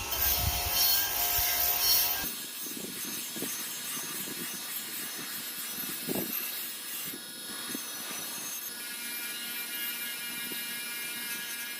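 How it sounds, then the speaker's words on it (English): A wire wheel works over a wooden casting pattern for cast iron stove legs, first as a loud, steady whirring scrub, then dropping to a quieter rubbing with brief bursts of contact. "In order to get a good finish on the final castings, I'm going to wire wheel these."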